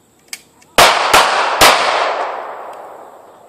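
Handgun shots at a concealed carry training range, three sharp loud reports in quick succession, each followed by a long fading echo, with no talking.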